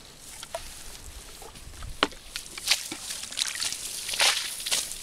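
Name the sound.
water being splashed at a well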